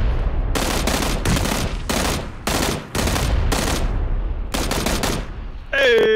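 Rapid bursts of close, loud automatic gunfire in PlayerUnknown's Battlegrounds, several sharp volleys separated by brief gaps, ending in a one-tap kill.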